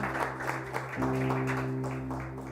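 Church congregation applause with scattered clapping, moderately loud, over a sustained musical tone that swells partway through.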